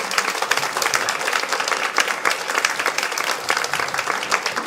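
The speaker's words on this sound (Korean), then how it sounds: "우리 한 꿈의 사랑의 뜨거운 박수로" A church congregation at a Sunday worship service applauds to welcome a seminary professor, a steady dense wash of many hands clapping together, loud and sustained throughout.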